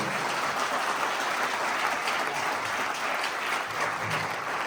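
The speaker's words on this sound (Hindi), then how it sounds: "सबके सम्मान में एक बार आप जोरदार तालियां बजा दो।" Loud, sustained applause from the audience at a poetry gathering, thick and continuous from start to finish with no voices breaking through.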